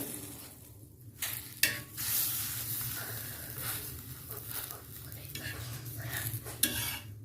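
Steady sizzling of a coconut-filled rice-flour crepe (patishapta) frying in ghee in a pan, with occasional scrapes and clinks of a spatula against the cookware.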